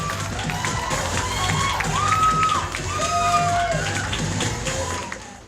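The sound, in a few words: audience applause and cheering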